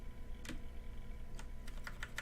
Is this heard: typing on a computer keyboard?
yes